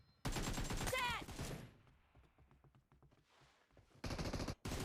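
Rapid automatic gunfire in PUBG Mobile, a loud burst of fast shots, then quieter scattered pops, then another loud burst near the end.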